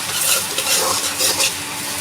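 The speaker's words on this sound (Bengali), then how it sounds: "এটা ভালোভাবে ভাজা ভাজা করব।" Country chicken fries in mustard oil with onion, green chili and tomato, producing a loud, close sizzle with rhythmic scraping stirs against the pot.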